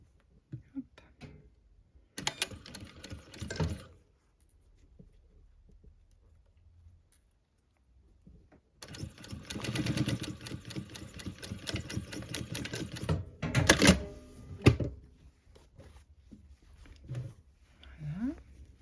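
Sewing machine stitching a dress sleeve seam, two bursts of rapid needle chatter, one short and one longer, separated by quiet handling of fabric.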